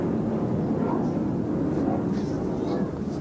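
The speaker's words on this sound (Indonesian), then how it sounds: "Ada suara pesawat, teman-teman, ya." Airplane passing overhead, a loud continuous low roar filling the whole stretch with a steady rumble and no break.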